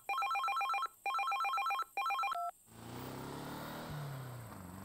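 A mobile phone rings in three loud, close bursts of a trilling electronic ringtone, cut off partway into a fourth, followed by a steady low rumble like a running engine.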